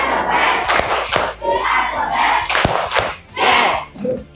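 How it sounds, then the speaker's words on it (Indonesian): A classroom of students doing a rhythmic spirit clap, loud group claps and thuds mixed with chanting voices in bursts, close and energetic. "Supaya semangat, coba kita tepuk semangat terlebih dahulu."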